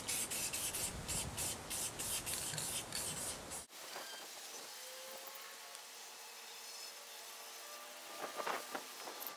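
Paint sprayer misting thinned paint onto the sanded, wire-brushed underside of a Massey Ferguson 245 tractor bumper: a close, loud, steady hiss broken by quick pulses for a few seconds, then cut off, leaving a quieter hum with faint rustling.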